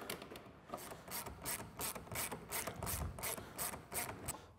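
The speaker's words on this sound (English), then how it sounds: "So we'll go ahead and install our" A hand ratchet clicks in quick repeated bursts while driving T40 screws on a Polaris RZR XP 1000, close and crisp with short pauses between strokes.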